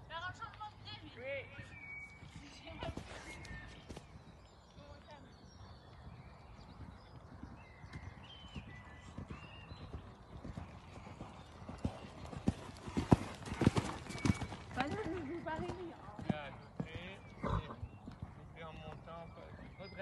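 Horse hooves clip-clop on an arena surface during a riding lesson, an irregular rhythm of close, sharp hoofbeats growing busier toward the end, with an instructor's voice talking over them.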